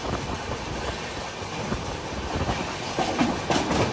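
The Cholan Express pulls into Chengalpattu railway station with a steady, close rolling rumble and rail clatter that swells slightly toward the end, with no voices.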